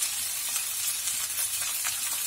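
Soybean stalks, beef mince and onion stir-fried together in a hot pan, giving a steady, close sizzle with scraping stir strokes throughout and no talking.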